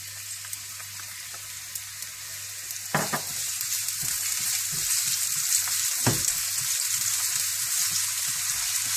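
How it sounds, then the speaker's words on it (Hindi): Finely chopped onions fry in hot oil for moong masoor tarka dal, giving a continuous close sizzle with a couple of louder stirring bursts. "तेल में आप प्याज हल्के से फ्राई कर लें।"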